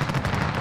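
Dense gunfire in a Modern Warfare Ground War match, continuous rapid shots and bursts filling the short moment, loud and close with no talking over it.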